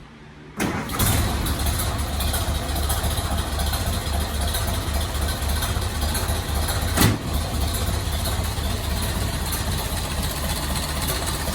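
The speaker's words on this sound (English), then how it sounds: "We're going to have Ethan get ready to fire it up so we can hear how it sounds" A 1930 Model A engine, freshly fitted with a new exhaust manifold and exhaust, cranks and catches, then idles steadily and fairly loud, with one sharp knock about two-thirds through.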